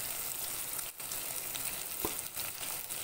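Finely chopped onion fries in hot oil with mustard seeds, urad dal and chana dal, making a steady close sizzle broken by a few sharp spatula taps.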